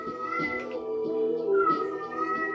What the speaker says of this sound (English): Excuse me if you hear my cat in the background.